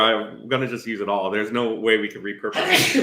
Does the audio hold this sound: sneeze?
yes